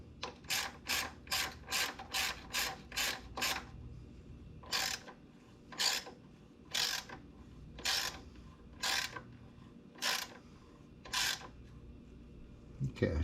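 Ratchet clicking as it tightens a bolt on a motorcycle chain adjuster, a quick run of evenly spaced ratcheting bursts followed by slower, separated strokes, close and clear with a low background hum.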